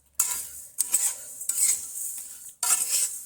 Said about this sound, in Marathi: हे धणे आपल्याला 5 ते 7 मिनटं भाजून घ्यायचे आहेत.